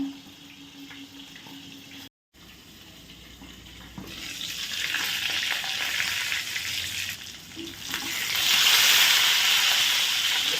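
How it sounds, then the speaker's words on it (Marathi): Stuffed brinjals fry in oil under a lid, giving a steady hissing sizzle that briefly cuts out, then grows louder and brighter toward the end. "त्याला तेलात आपल्याला फ्राय करायचं आहे वांग्यांना"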